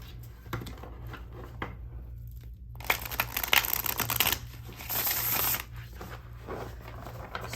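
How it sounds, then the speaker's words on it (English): Tarot cards being shuffled close up, with a series of soft riffling and sliding bursts, a brief pause, then louder, denser shuffling flurries that taper into lighter card handling. "So one more good shuffle."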